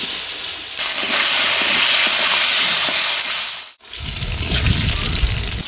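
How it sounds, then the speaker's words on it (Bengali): Eggplant slices fry in hot oil left over from frying hilsa fish, giving a loud, close, broadband sizzling hiss. The hiss briefly drops out, then resumes with more crackle and bubbling, and nobody speaks. "ইলিশ মাছ ভাজা তেলেই এখন বেগুনটা ভেজে নেবো"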